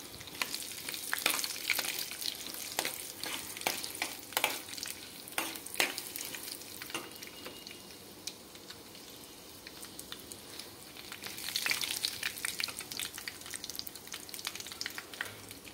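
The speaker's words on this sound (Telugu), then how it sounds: "నూనె వేసి తాలింపు గింజలు, ఎండుమిరపకాయ అన్నీ వేసాను" Tempering seeds and dried red chillies fry in oil with a steady close sizzle, punctuated by crisp pops and spatters that thin out midway and then flare up again.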